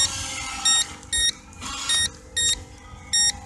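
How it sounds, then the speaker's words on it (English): A JJRC S4 Spectre RC speed boat sounds its low-voltage warning alarm: five short, high electronic beep bursts at a regular pace over a faint background hum. "I like it when these new little boats have got the added feature of this alarm system to let you know the LVC warning"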